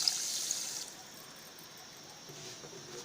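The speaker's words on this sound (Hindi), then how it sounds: "और पानी डाल देते हैं।" Water is poured into a pan of sugar to make sugar syrup: a brief close splashing pour in the first second, then fading to a faint quiet trickle.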